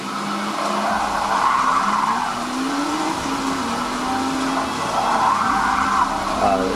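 Cars in the Forza racing video game, played on an ASUS ROG Zephyrus S GX502 gaming laptop: a continuous loud engine drone with shifting pitch, mixed with tire skid and squeal noise, steady throughout.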